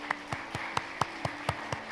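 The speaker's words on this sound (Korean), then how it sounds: "이춘희님 박수로 우리 환영하겠습니다" A church congregation at a Sunday worship service claps in welcome for an invited guest: about eight fairly faint, evenly spaced hand claps in a steady rhythm, heard alone without talk.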